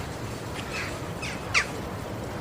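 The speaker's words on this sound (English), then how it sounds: "And ducks, and seagulls and pigeons." Birds at a lakeside with ducks, seagulls, pigeons and geese: a few harsh squawking calls rise over steady outdoor background noise, the loudest a short sharp cry near the end.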